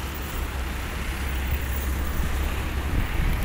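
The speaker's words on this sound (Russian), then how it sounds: "Дует небольшой ветерок." A light wind buffets steadily on a sunny city street in Ufa, producing a continuous low rumble and rush of air with no voices.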